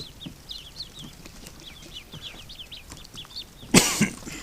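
Small ducklings peep in a steady scatter of short, high chirps in a barn, joined near the end by a brief loud rustle or knock close by.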